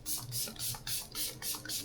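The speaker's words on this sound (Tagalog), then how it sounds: "I'm just gonna spray my Talba First Spray Serum." A Talba First Spray Serum face mist pumped from a spray bottle in a hotel room, seven quick, evenly spaced hissing spritzes in a steady rhythm, close and fairly soft.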